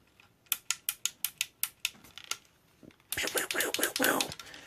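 Joints on a Transformers: Classics Megatron action figure clicking, a run of about a dozen sharp, evenly spaced ratchet clicks, then a denser, louder burst of rapid clicking, close and alone.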